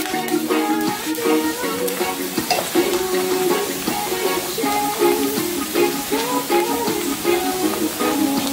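Pork ribs browning in a pot for a spicy brown stew, with a constant close sizzle and repeated scraping stirs, no talk over it.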